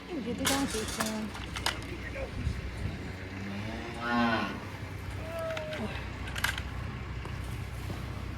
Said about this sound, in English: That's one of the cows that was back yonder, but not the mama cow